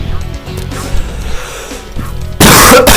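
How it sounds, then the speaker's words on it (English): One person clears their throat in a few short rough bursts close to the microphone during a retro game of Spyro the Dragon, with game sounds underneath and a loud burst of noise at the end. "Clearing my throat."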